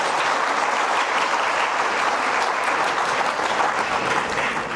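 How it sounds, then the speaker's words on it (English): Dense, steady applause from an audience after a student dance performance at a university Indian Arrival Day celebration in Trinidad and Tobago, filling the room evenly at a loud level without letup. "I think they deserved a little longer round of applause than that."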